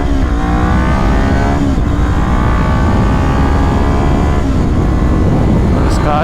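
A Kawasaki Ninja 400 motorcycle accelerates hard on a freeway, its engine climbing in pitch with loud, constant wind roar over it, heard close up from the rider's position.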